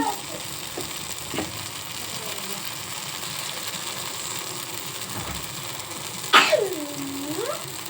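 Oil trickled onto a hot cast paniyaram pan gives a soft, low sizzle under a faint background murmur. A few light clicks sound, and a sharp metallic scrape rings near the end.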